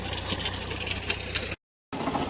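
A tractor diesel engine with dirt in its fuel runs steadily with a low rumbling idle and uneven knocking, briefly cutting out to silence before starting up again.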